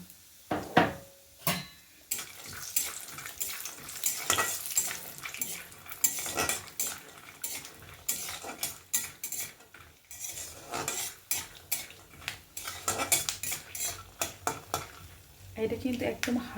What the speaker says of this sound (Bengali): সেগুলো এবার এটাকে তেলের উপরে দিয়ে হালকা ভেজে নেবো